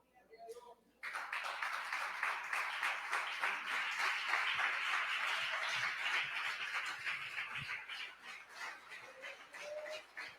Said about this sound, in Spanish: Pueden sentarse dándole a Dios un fuerte aplauso.